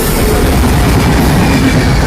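A train passes close by from south to north near Thiruvananthapuram South, a loud, unbroken roar of wheels on rails with a rhythmic clatter running through it.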